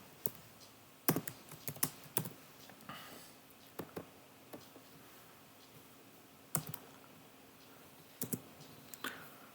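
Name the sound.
typing code on a computer keyboard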